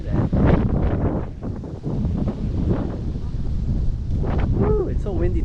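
Strong wind buffets the microphone at Poipu Beach, Kauai, Hawaii, in a continuous loud roar, with fluttering gusts and a faint voice partly buried under the noise.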